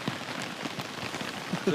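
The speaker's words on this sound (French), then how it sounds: "Il pleut de là." Rain falling and leaking indoors, a steady dense patter of drops on surfaces, close and continuous, with faint voices near the end.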